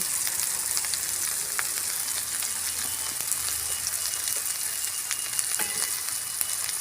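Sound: spice masala frying in mustard oil

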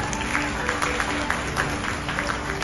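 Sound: audience applause

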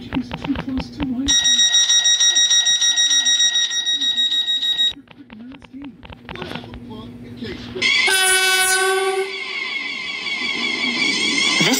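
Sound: train passing in a video game

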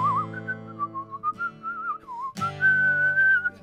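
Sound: whistling along to a song

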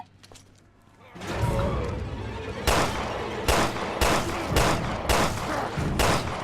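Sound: gunfire in video game Resident Evil Revelations 2

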